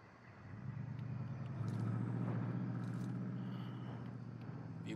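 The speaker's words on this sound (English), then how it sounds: "Vehicles on the move." Vehicles roll along in the Modern Warfare video game, a low continuous engine rumble that swells slightly early on and then holds steady, fairly faint and without talk.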